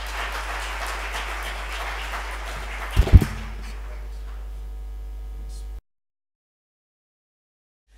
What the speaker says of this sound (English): If we can just have a round of applause for our esteemed panelists too.